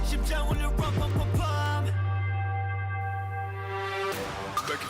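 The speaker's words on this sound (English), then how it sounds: "I want the bells to come back." Bell tones ring out in a K-pop track, a struck chime with long sustained overtones that decays slowly after a burst of percussive hits, loud and close with no talking over it.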